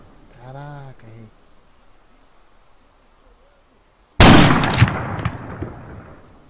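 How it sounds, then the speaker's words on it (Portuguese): A single loud, sharp sniper rifle shot in Arma 3 cracks suddenly and rolls into a decaying echo, following a brief voice and a stretch of quiet ambience. "Caraca, Thiago, errei um tiro aqui, cara, quase impossível de errar, cara."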